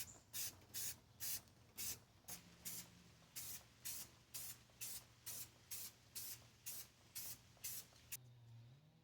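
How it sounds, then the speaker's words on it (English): Rhythmic short bursts of spray primer and paint hissing from a can onto a metal tool chest, about twenty evenly spaced sprays in a row, close and clear with no talking. "Rust converter before spraying primer and paint."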